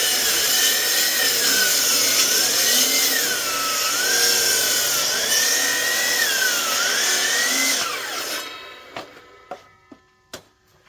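A power saw whines steadily through wooden 4x6 cants, its pitch wavering under load, then stops; a few sharp knocks and thuds follow in the quiet.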